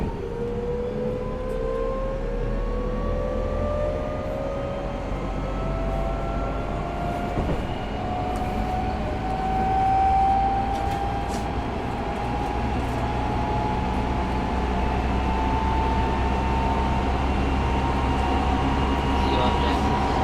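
Tokyo Metro 05 series local train running between stations, its Mitsubishi IGBT inverter whining in a steadily rising tone over a continuous loud wheel and track rumble heard from inside the car.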